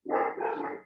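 Several household dogs bark hard at a landscaper in one close, loud, unbroken burst of overlapping barks and growls.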